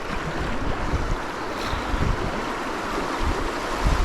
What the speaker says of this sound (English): This is the biggest rapid on this whole section.